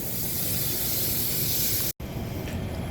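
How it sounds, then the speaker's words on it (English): Coil cleaner sprays in a steady close hiss onto an AC condenser's coils, pausing for a split second before the spray resumes more softly. "I'm spraying from the top down and letting it drip down"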